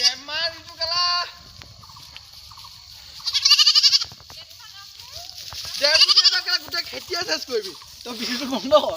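A goat bleats repeatedly, with four or five wavering, nasal cries spaced a second or two apart, close and loud, with quieter stretches between them.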